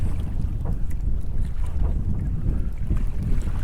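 A Hobie Outback kayak under sail in strong wind on choppy water, with continuous wind buffeting the microphone over the slap and rush of waves against the hull.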